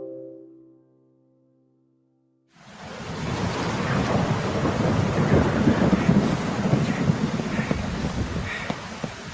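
Thunderstorm with heavy rain as a radio drama effect: after a brief quiet, a loud rumble of thunder breaks in over a dense, steady downpour that continues to the end.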